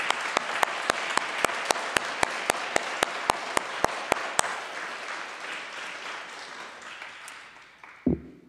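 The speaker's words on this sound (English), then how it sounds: "let's just give Jean a hand of applause" Audience applause rises and holds for several seconds, with a regular sharp ticking on top, then gradually dies away before a thump at the end.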